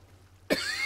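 A person coughs in a short, close burst after a quiet lead-in, with a second cough starting at the very end.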